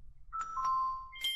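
A doorbell ding-dong in the Kirby Star Allies video game, a bright two-tone chime followed by a higher ding, clear and close over faint low background noise.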